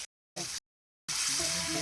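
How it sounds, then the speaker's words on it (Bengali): Meat goes into hot oil and spices in a pan, bursting into a loud continuous sizzle after brief choppy fragments separated by silent gaps. "এবার মাংসটা দিয়ে দেবো তাতে"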